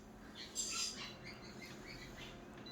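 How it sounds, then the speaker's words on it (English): Rainbow lorikeets give a few faint, high chirping calls in an outdoor setting, one brief louder burst standing out against a soft, constant background hiss. "They're beautiful birds, these rainbow lorikeets."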